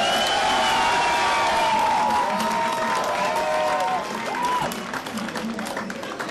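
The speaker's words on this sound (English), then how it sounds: "Can I get a round of applause, though, for the girls that are up on the steps?" A crowd at a New Jersey protest against the smoking ban applauds and cheers in sustained, dense clapping with whoops, loud and steady throughout before easing slightly near the end.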